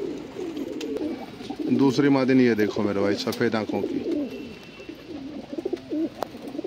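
Punjabi pigeons with white eyes coo softly in a low, throaty murmur, continuing under someone talking close by throughout.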